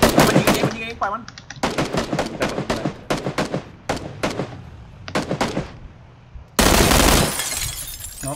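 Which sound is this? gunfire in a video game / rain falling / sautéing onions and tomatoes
gunfire in a video game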